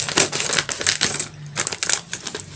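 Scissors snip open a plastic bag of tapioca flour, producing a close, rapid series of crisp cuts and crinkling rustles that pause briefly, then carry on; no voices.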